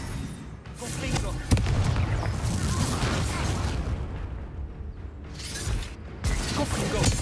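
Confringo fire-blast spell explosions in Hogwarts Legacy, with a sharp booming hit followed by sustained rumbling blasts and crackling combat noise, dense and loud, with game voices and effects mixed in.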